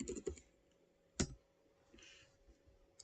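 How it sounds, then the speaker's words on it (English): Keys on a computer keyboard are struck to type into a search bar, a quick cluster of clicks followed by a single sharp tap and faint scattered clicks in a quiet room. "over here type in the search bar"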